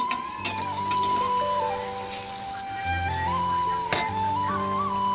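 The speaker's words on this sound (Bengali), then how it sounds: "ভাজা হচ্ছে" Palm fruit fritters (taler bora) fry in hot oil, giving a steady, close sizzle that runs throughout, with sustained tonal sounds layered over it.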